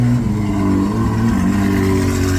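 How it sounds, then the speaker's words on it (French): A Ferrari 812 fitted with a Novitec exhaust rumbles nearby on a street in Monaco, a deep, loud, steady engine drone with slight revving swells and no talk. "Écoutez la 812 avec les échappements Novitec."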